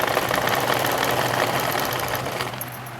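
An electric sewing machine stitches piping onto a blouse, running in a fast, steady mechanical whir with a rapid needle rhythm that eases off slightly near the end.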